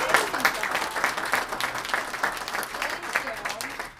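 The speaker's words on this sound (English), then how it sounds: "let's give him a huge round of applause, you guys, for doing an amazing job." Audience applause fills a meeting hall at a launch event, dense steady clapping from a crowd throughout with some voices mixed in.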